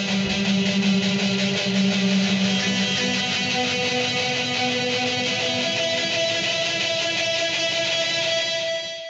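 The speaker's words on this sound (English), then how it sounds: "This trick requires you to turn your delay and reverb all the way up." Electric guitar notes run through delay and reverb set to maximum smear into a dense, sustained wash. Overlapping echoes hold a steady, loud shimmer that fades slightly at the end.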